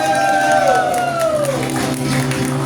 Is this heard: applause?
yes